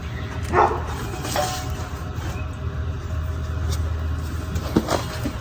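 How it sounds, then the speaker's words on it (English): A neighbor's dog barks at squirrels in a backyard garden, several sharp barks spaced apart at mid distance over a steady low traffic rumble. "neighbor's dog is out barking at squirrels"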